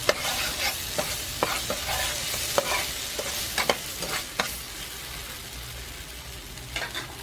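A spoon stirs a sauce mixture with beef seasoning in a frying pan, giving a gentle sizzle broken by irregular scraping and tapping strokes against the pan, close and moderately loud.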